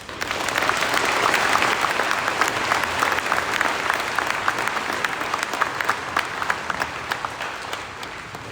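A school assembly audience claps steadily for writing-contest winners at a Veterans Day event, dense sustained applause at an even level throughout with a faint murmur of voices underneath.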